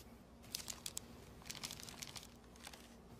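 A Kotex tampon wrapper being unwrapped: faint, close crinkling and tearing of thin packaging in several short bursts over a quiet low hum.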